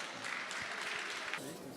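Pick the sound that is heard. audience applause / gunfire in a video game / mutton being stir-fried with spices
audience applause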